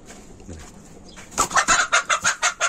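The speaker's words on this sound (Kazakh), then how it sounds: "Мінекей өзімнің тауықтарым, кеше алған 5 тауық" Quiet at first, then chickens cluck up close in a quick, rhythmic run of about eight sharp clucks.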